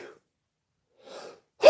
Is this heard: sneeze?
yes